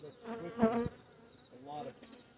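Honey bees buzz steadily at close range around an open hive frame, a busy droning hum with a louder surge partway through.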